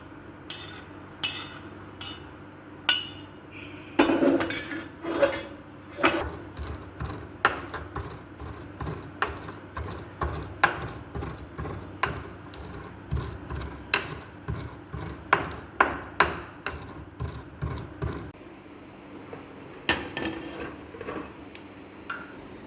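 Roasted whole spices being coarsely crushed for an instant green chilli pickle, a long series of dry rhythmic pounding and grinding strikes, close and fairly loud, with no talking.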